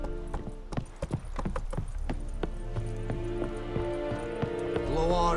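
Hooves of Roach, a horse in The Witcher 3, clop along in quick uneven steps near the listener, the footfalls easing as a tonal in-game ambience swells underneath.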